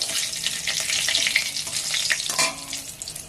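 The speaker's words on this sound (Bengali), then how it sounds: "তিনটে লবঙ্গ আছে দিয়ে দিচ্ছি একটা তেজপাতা দিয়ে এগুলো ভাজা হয়ে গেছে" Cloves and a bay leaf fry in hot oil in a kadai, producing a close, continuous crackling sizzle with a brief stirring scrape near the end.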